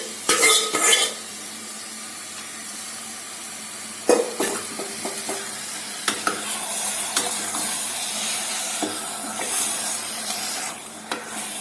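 Marinated chicken pieces tumbled into sizzling fried masala in a pan and stirred, with scrapes and clinks of a spoon against the metal over a steady frying hiss.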